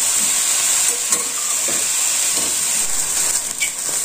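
Onion, mushroom and bell pepper frying in a kadai, a steady loud sizzle and hiss with a few soft stirring scrapes and no talking.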